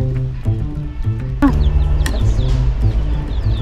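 Poultry at a farm store cluck and call loudly and closely. The calls overlap in a busy, continuous din with no speech.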